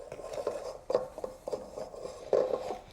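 Unsalted butter and cocoa powder creamed together in a bowl, uneven scraping and tapping of a utensil against the bowl with a few sharper clinks, close by and without talk.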